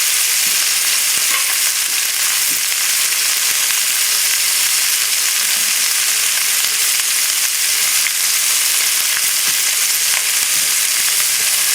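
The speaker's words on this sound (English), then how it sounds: "And what I'm adding to this right now is only the garlic." Garlic in big chunks frying in a pot over a high flame for a chicken stew, giving a steady, loud, broadband sizzle that runs unbroken throughout with faint stirring ticks and no talk.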